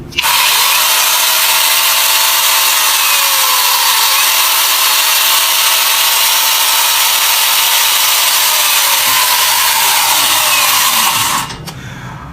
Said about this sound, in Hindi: मैं आपके सामने इस चेनसॉ अटैचमेंट को चला के दिखाता हूं।